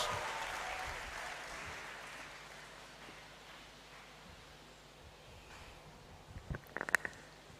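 Applause in a great hall at a university congregation ceremony, a faint distant wash of many hands clapping that gradually fades, followed by a few louder close thumps and knocks near the end.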